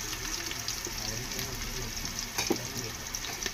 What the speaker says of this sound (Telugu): ఇదిగోండి నూనె కాగింది, ఉల్లిపాయ పచ్చిమిరపకాయ వేసుకుంటున్నా